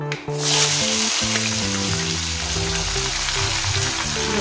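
Chopped onion hitting hot oil already seasoned with mustard seeds and cumin for stuffed karela, a sudden loud burst of sizzling that settles into a steady close crackle, with faint stirring clinks and no speech.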